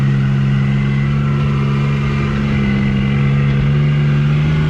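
A vehicle in 4-wheel drive crawls over rocks on a trail in western Newfoundland, its engine giving a loud, steady mid-pitched drone with no talk.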